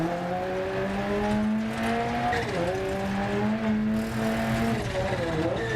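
A rally car in Dirt Rally 2.0 on a New Zealand gravel stage slides through a tight corner under handbrake, engine droning and shifting pitch while tires scrub and skid loudly, with a short revving rise near the end.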